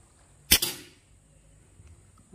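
One sharp crack from a CO2 air rifle fired at a target, held loosely, close and loud with a short decaying ring, followed by quiet with faint handling noises.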